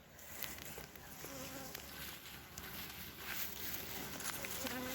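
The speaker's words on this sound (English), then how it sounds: "Oh, got a little bee right there." A bee buzzes faintly in a soft, wavering drone, fading in and out against quiet outdoor background noise.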